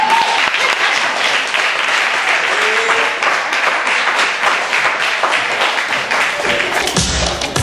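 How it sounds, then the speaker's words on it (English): An audience at a poetry night claps loudly and steadily for poet Miss Maddie, a thick wash of hand claps with a few whoops that carries on for several seconds, with a brief thump near the end. "clap your hands. Give it up for Miss Maddie"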